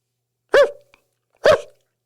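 A person's voice imitates a dog bark twice: two short, loud, close woofs about a second apart, separated by silence.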